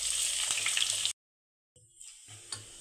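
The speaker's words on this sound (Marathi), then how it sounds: "1 मिनिटभर अद्रक आणि लसूण आपल्याला परतून घ्यायचं आहे।" Chopped ginger and garlic sauté in hot oil with mustard seeds, cumin and curry leaves, giving a loud, steady sizzle that cuts out briefly and then resumes more softly.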